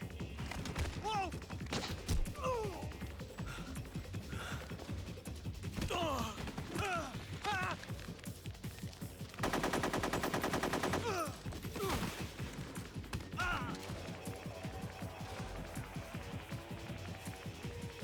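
Gunfire in Metal Gear Solid 3: Snake Eater, with bursts and single shots over game music and voices, and a dense sustained burst of automatic fire in the middle.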